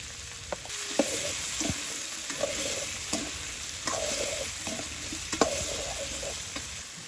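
Potatoes sautéing in leftover fish-frying oil for a village-style hilsa curry, with a steady sizzle and several sharp scraping stir strokes of a spatula against the pan, close and fairly loud, no talking.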